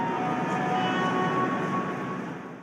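Old Montreal metro train cars built for the 1976 Olympics, heard pulling away as a steady, loud rolling drone with sustained tonal hums layered over the rumble, fading slightly toward the end, with no voices.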